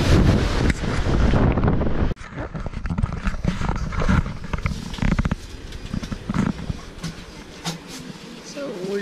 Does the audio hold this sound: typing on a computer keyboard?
no